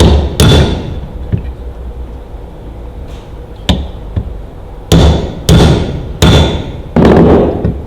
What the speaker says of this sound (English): just deform those rivets enough to hold in